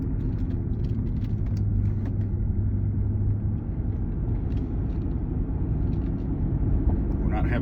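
A Lincoln MKX being driven down a street, its engine a steady low rumble with continuous road noise, heard from inside the cabin with no voices.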